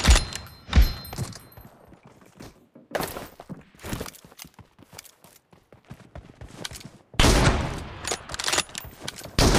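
Bursts of gunfire from an M24 sniper rifle in a video game, sharp loud shots in irregular clusters with dense rapid firing near the start and end, sparser cracks in between.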